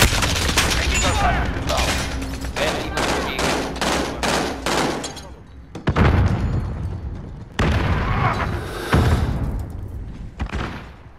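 Call of Duty firefight with bursts of rapid gunfire and booming explosions, loud and close, broken by short pauses, with a player talking over the action.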